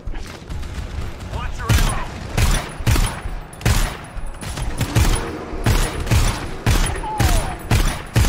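In the GTFO shooter game, bursts of loud gunfire hammer out in rapid volleys close by, broken by short pauses, with mechanical clicks and players shouting over the shooting.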